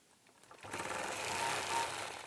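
A sewing machine stitches across a Blue Broken Star quilt, its motor starting after a quiet half second and then running in a steady, close, continuous whir with no talk.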